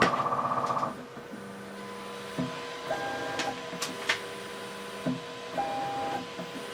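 A newly acquired 3D printer running a test print, its stepper motors whining in steady tones and short buzzing moves, with clicks and brief pitch changes as the head repositions, close and fairly quiet.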